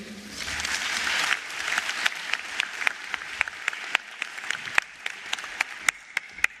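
A crowd at a matric results announcement ceremony claps in a full burst that quickly thins into scattered, individual claps ringing out one by one.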